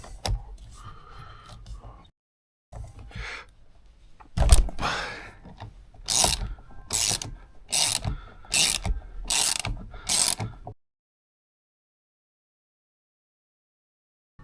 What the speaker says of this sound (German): hier die Zentralschraube, die könnt ihr lösen und das ist ein Vielzahn und zwar eine M12